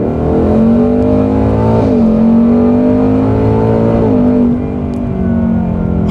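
Ford Mustang Dark Horse V8 pulling hard in paddle-shift manual mode, a loud, close engine drone rising in pitch with quick drops at upshifts around two and four seconds, then easing off.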